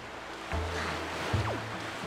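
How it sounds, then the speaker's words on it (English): Sailing boat gliding over ocean waves in the video game Wind Waker, a soft continuous wash of water and wind with a couple of low thumps as the hull meets swells. "we're gonna get there via sailing"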